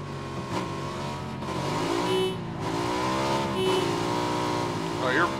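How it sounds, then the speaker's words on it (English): A motorbike engine in the video game PUBG revs repeatedly, its pitch rising and falling in long whining sweeps over a steady, busy background. "sit up on the hill and menacingly rev our engine."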